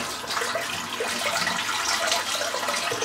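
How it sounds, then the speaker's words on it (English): A tap runs steadily, refilling a basin with warm water for shaving, a soft continuous rushing and splashing heard close by, with no voices. "The water has gone cold, so I'm going to replace that with some warm water."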